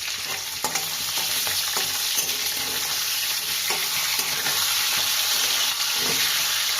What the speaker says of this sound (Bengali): তো আমি মাছের মাথাটাকে ভালোভাবে ভেজে নিচ্ছি।